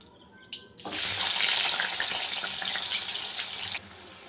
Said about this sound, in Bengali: এবারে আলুটা একটু হালকা ভেজে নেব